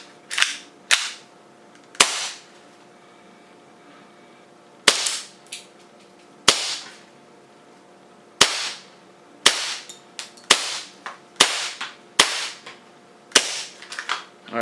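An airsoft Hi-Capa 4.3 pistol fitted with an AIP CNC hop-up firing about a dozen sharp, snappy single shots, spaced irregularly and then coming faster toward the end, loud and close with short decays and no talk.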